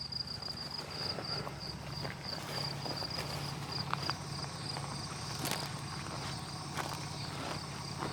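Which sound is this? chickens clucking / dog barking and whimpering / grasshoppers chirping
grasshoppers chirping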